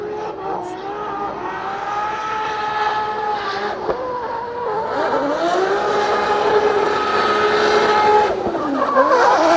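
Drift car during a solo practice run at a Drift Masters event in Finland, its engine screaming at high revs with sustained tire squeal through the transition and initiation, loud and continuous with a rising pitch sweep near the end.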